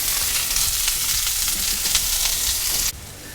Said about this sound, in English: now I've got my pan hot with some of that bacon grease, and we're going to cook these onions